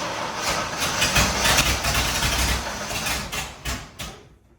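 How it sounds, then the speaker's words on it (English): A Ford Bronco engine runs through a custom 3-inch exhaust that exits at the quarter panel. It gives a steady, loud rumble that wavers slightly and then cuts off abruptly near the end, with no talking. "Give it the gas."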